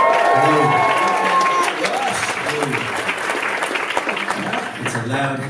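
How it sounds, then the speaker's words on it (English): Loud audience applause at a live comedy radio show during SF Sketchfest, with dense clapping and some cheering from a crowd, a voice speaking over it partway through. "It's a loud applause."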